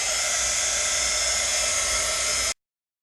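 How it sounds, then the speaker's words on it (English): A heat gun blows steadily on an art journal cover, a loud close continuous whir and hiss holding constant for about two and a half seconds before cutting off abruptly. "And then what I will do is go ahead and hit this with the heat gun."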